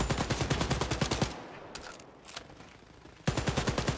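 Rapid automatic gunfire from Wolfenstein: Youngblood rattles in a fast, loud burst, stops for about two seconds of quieter ambience with a couple of isolated shots, then resumes sharply at full volume.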